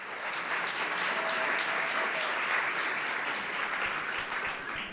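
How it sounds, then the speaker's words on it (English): An audience at an Arena Stage science talk breaks into sustained applause, a thick, even wash of clapping from many hands that stays loud and steady throughout before tapering slightly at the end. "I would like everyone to give a big hand of applause to this amazing country."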